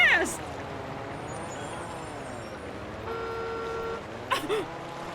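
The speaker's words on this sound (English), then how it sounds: "They honked at me." Car horn honking at a trolley in Like a Dragon: Infinite Wealth, a couple of short toots near the start and end over a steady vehicle drone, with background voices.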